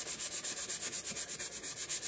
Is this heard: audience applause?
no